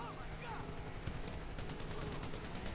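Rapid bursts of gunfire ring out in the video game GTA 5 during a prison escape, a steady crackle of shots running under excited talk.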